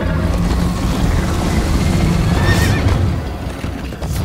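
Horse whinnying over constant galloping hoofbeats during a chase scene in Minecraft Story Mode, with a loud, dense rumble throughout and a high neigh rising near the middle.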